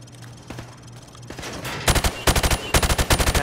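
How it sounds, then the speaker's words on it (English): Rifle fire from the hip at targets in Call of Duty: Modern Warfare Remastered: a few scattered single shots, then loud rapid bursts of automatic fire in quick succession, close and dominant. "Now, shoot at the targets, while firing from the hip."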